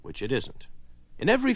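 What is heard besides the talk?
No everyday noise stands out behind the speech.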